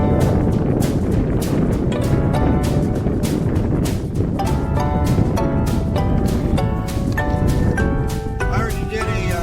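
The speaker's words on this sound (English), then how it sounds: "Nice windy day." Strong wind buffeting the microphone on a very windy day at a model airfield, a loud continuous rumbling roar with gusting bursts and some faint tonal sounds near the end.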